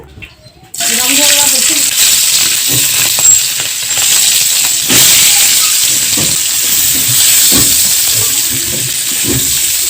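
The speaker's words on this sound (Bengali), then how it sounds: "এখন এই গরম তেলের মধ্যে আমি নুন হলুদ দিয়ে মেখে রাখা মাছগুলো দিয়ে দিব।" Pieces of fish rubbed with salt and turmeric drop into hot oil, setting off a sudden loud, steady sizzle and hiss that carries on with faint crackles, close to the pan.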